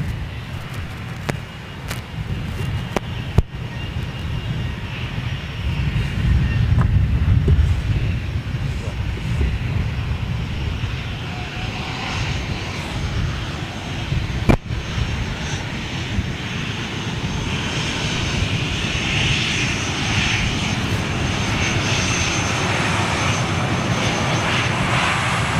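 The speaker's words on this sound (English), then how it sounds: "Oh, Turkish is 737." Jet engines of a Turkish Airlines Boeing 737 at London Gatwick, a loud continuous roar that swells and stays strong, with faint talk underneath at times.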